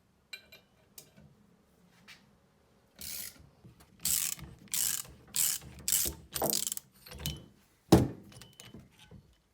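A bearing puller on a Minn Kota Waterfowl trolling motor is ratcheted down to pull off a small ball bearing, giving a close series of quick metallic ratchet clicks in short bursts, ending with a sharp clunk.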